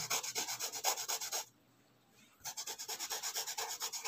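Sandpaper rubbing a paper blending stump back and forth in a quick steady rhythm, pausing for about a second, then resuming the same scratchy strokes up close.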